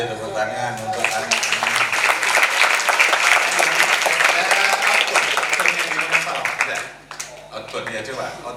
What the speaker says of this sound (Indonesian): tepuk tangan untuk anak